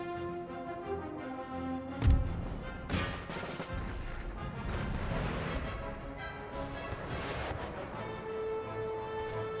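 Heavy artillery volleys in the Empire: Total War battle, a sharp booming impact near two seconds and another just before three, then a dense, continuous rumble of massed cannon and musket fire rolling on to the end.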